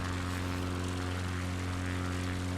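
Propeller plane engine droning steadily inside a light aircraft on a bush flight over North Queensland, a loud, constant, even hum with no break.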